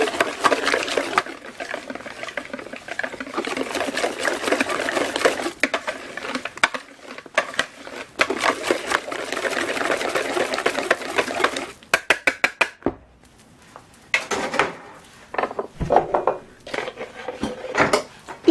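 A spoon stirs risen yeast into milk in a bowl, giving steady scraping and clinking against the dish that stops briefly and then resumes as quicker, sharper taps.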